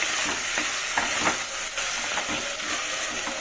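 A spoon stirs salted tomato gravy for biryani in a hot clay pot, with repeated scraping strokes over a steady sizzle and hiss.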